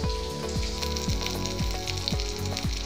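Green chillies fry in hot oil in a pan, a steady close crackling sizzle with regular scraping stirs every half second or so, and no voices.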